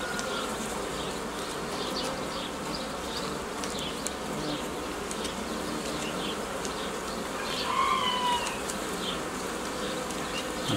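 Honey bees in an opened organic hive in early May hum as a steady, close, dense buzz, with individual bees briefly whining louder as they pass nearby; no one speaks.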